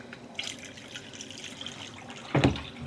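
Water poured out of a yarn dyeing pot at home, a soft running trickle with light splashes, then a short, louder sloshing splash near the end.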